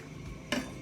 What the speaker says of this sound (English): There is a way to scrape the biryani.